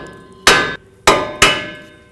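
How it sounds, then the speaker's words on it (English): Three sharp metallic hammer strikes on the steel steering knuckle of a 2006-2011 Chevrolet HHR, freeing the tie rod stud, close and loud, each ringing briefly before fading, with uneven gaps between blows. "Hammer right here, that's going to break the stud free from the knuckle."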